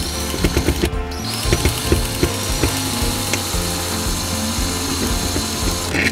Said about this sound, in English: Then you just back the screw out of it.